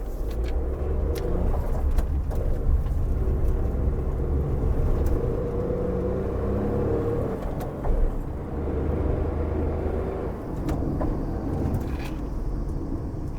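A Tata Nexon CNG car runs on petrol, giving a steady low engine and road rumble from inside the cabin with tire noise and occasional faint knocks, constant throughout.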